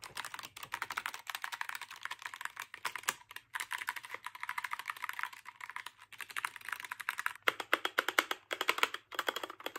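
Fingers type in quick bursts on a new gaming keyboard, crisp close key clacks with short pauses between runs.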